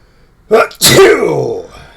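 A single loud, close sneeze: a sharp intake followed by an explosive burst that trails off, alone with no talk.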